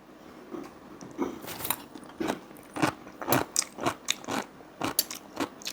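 Crunching on homemade fermented sauerkraut made with onion and garlic, a steady run of close, moist crisp bites and chews repeating through several seconds with no talking.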